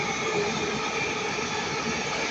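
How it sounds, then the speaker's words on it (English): A Northern Class 331 electric train passes close by at Ardwick, giving a loud, continuous rumble of wheels on rails with no talk over it. "Here we have a Northern Class 195, I think."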